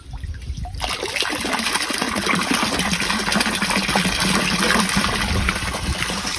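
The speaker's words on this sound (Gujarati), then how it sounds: "સીધું લાઈનમાં પાણી આવ્યો" After a brief quiet moment, water pumped up from a well by a motor pump gushes straight into a pipeline, a loud, steady rushing flow with a low rumble underneath that continues to the end.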